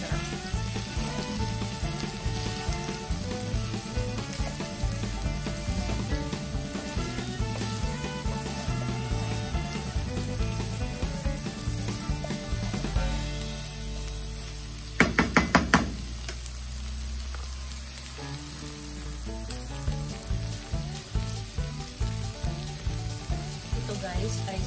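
Patcham frying in a pan gives a loud, constant sizzle with steady crackling close by, broken by a brief cluster of knocks midway as the food is stirred.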